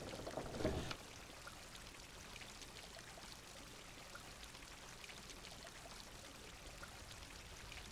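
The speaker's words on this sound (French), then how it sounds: "On a réussi à faire couler l'eau." Water pours through a small wooden gutter in the puzzle game Grim Legends, a brief louder gush at the start that settles into a faint, steady trickling stream.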